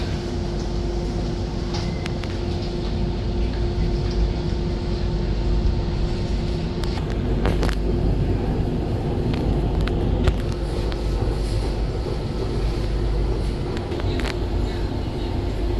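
At Pontoon Dock station a new DLR train hums and rumbles steadily at the platform, a continuous low drone with faint clicks and a few sharp transient knocks, no speech audible.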